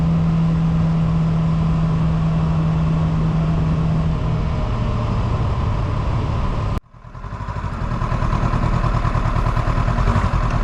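A Honda CB500X motorcycle climbing a winding mountain road at night, its engine droning loud and steady with heavy wind rush. The roar dips sharply for a moment, then builds back up.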